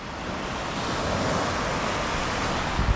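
Sea waves at high tide at Puerto Azul Beach Resort in Ternate, Cavite wash in as a continuous broadband roar of surf, close and steady with a slight swell near the end, mixed with wind.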